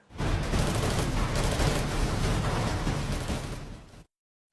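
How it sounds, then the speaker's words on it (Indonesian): Dense gunfire from a firefight in the Minecraft video game, a loud continuous barrage of shots and blasts lasting about four seconds before cutting to silence, with no talking. "Setelah berjam-jam kedua kubu ini melakukan silaturahmi baku tembak, Shin pun berpindah"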